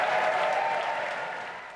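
Audience applause after an Ontario political speech, a steady wash of clapping from a crowd that slowly tapers off, heard alone without talk.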